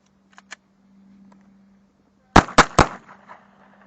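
A Glock 22 .40 caliber pistol fires one sharp, loud report, followed by fast echoing cracks and a short fading tail, after faint clicks and a low hum.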